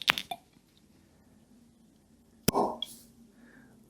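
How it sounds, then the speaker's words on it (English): A cork pops out of a Bruichladdich The Organic 2010 whisky bottle with one sharp, close pop, followed by a brief squeaky scrape and a soft hiss, against a quiet room. "Great cork pop."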